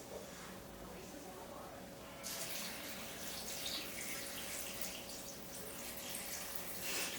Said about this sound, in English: I'm going to go ahead and add a little bit of water to it before I add anything else.